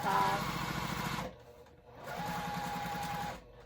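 A sewing machine stitching a Lola garment, a fast close motor-driven needle rattle in two bursts separated by a short pause, the second run continuing the seam after a back stitch.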